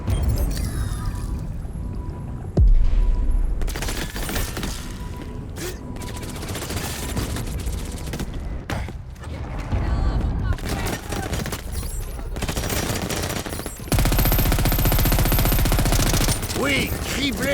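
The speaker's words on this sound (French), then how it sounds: "Oui, criblez-les de balles." Rapid gunfire bursts from the Crackdown 3 video game, a long dense barrage that swells loud near the middle and end, with game voices talking over the shooting.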